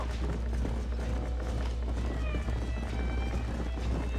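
A horse galloping in Red Dead Redemption, steady rapid hoofbeats over a constant low rumble, close and even throughout, with no pauses.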